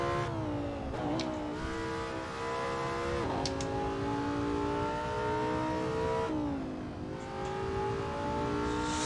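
Lamborghini Sesto Elemento engine in a racing simulator, a steady high-pitched whine that rises with revs, dips briefly during shifts, then climbs again, loud and continuous with no talk.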